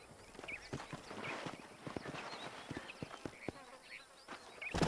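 Horse hooves clip-clop in irregular, overlapping steps in the Western video game Red Dead Redemption. The hoofbeats sound fairly close but quiet, with faint insect buzzing and ambient outdoor noise underneath.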